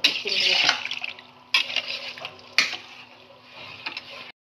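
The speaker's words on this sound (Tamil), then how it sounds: "மூணு குளம் அரிசிக்கு ஆறு குளம் தண்ணி இதில் ஊற்றினா" Water pours and splashes into a pot of soaked rice with ghee for vegetarian biryani, coming in three separate bursts that each fade out, with a faint steady hum underneath.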